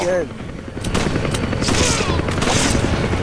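Gunfire in Resident Evil 5 co-op play comes as a loud, dense burst of rapid shots and booming game effects. A voice briefly speaks at the start.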